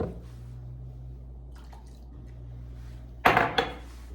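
Eggs and milk for a breakfast casserole get a quick whisk in a bowl, a short burst of clinking and sloshing after a quiet stretch.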